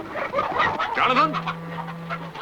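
Hens clucking in a hen house, a few short fowl calls mixed with low animal noise, under and between people talking, with a steady low hum running through the second half.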